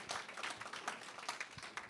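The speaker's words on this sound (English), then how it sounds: "just a round of applause for our panelists and their insight" An audience at a District 5 leadership meeting gives a round of applause for panelists, soft, scattered clapping heard from a distance.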